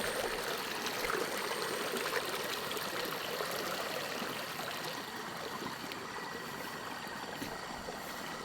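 A stream of spring-fed water flows steadily at night, a constant faint hiss and trickle with a low engine-like hum beneath it and no voices.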